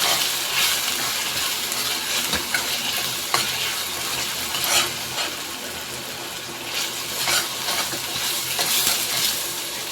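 Rajma masala with turmeric and garam masala fries in a pan while being stirred, producing a continuous close sizzle broken by repeated clinks and scrapes of the spoon against the pan.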